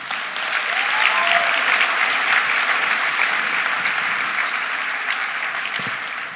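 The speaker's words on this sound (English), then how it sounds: "Can you please give yourselves a round of applause?" Sustained, dense applause from a large audience at an education conference keynote in Long Beach, steady and loud throughout with a slight fade near the end, no talking over it.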